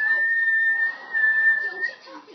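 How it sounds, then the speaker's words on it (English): A person whistles one steady, sustained high note, close and clear, for about two seconds. It then breaks off into faint background sound. "This is what my cat does when I whistle."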